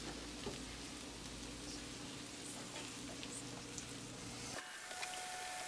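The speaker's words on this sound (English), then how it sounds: "So now we're again saute." Onions and tomatoes sautéing for a fish fry masala give a steady, close sizzle and crackle that runs evenly, then drops away near the end, leaving a faint tone and light clatter.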